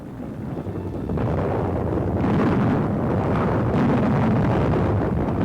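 Heavy German WWII artillery fire pounding a bridgehead, heard as a dense, continuous rumbling roar that swells louder after the first second and stays thick and steady, with no voices.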